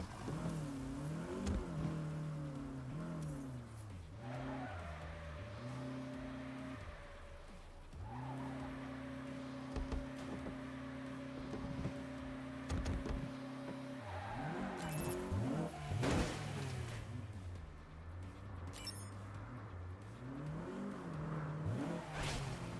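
A car driven in the video game Saints Row, its engine droning steadily with shifting pitch as it accelerates and revs, plus brief whooshes and tire noise, heard alone without talk.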